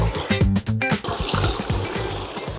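Water from a village tube well splashes and gurgles into cupped hands, a close, bubbling pour with a few lumpy splashes early on, then a steady stream.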